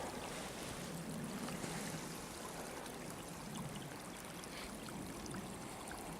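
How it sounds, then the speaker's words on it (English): Pond runoff in winter woods, running water that keeps flowing instead of freezing, heard as a steady broadband rushing and trickling, close and continuous throughout, with no voices. "Yeah, here's the pond runoff."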